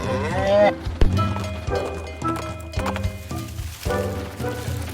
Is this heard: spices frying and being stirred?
no